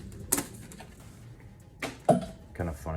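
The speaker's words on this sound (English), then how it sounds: "Just getting all that packaging out of the way here." Plastic packaging is pulled off a Shimano Aldebaran fishing reel spool, giving a few sharp crinkles and rustles separated by quiet moments, close and fairly soft.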